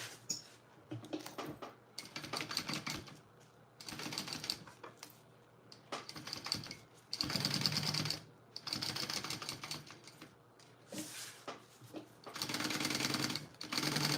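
A sewing machine basts the sides of a fabric wristlet in several bursts of steady whirring stitching, close by, separated by short pauses.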